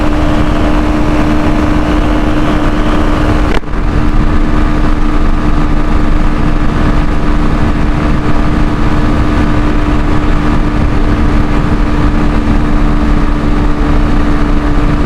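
A steady, loud engine drone with constant road rumble from a Beker Cross motorcycle cruising at speed on a motorway, with a brief dip partway through.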